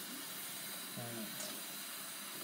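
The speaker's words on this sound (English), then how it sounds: "so we're gonna rinse out the cup" A cup is rinsed out under running tap water, which makes a steady, even hiss throughout while a voice briefly speaks a single word.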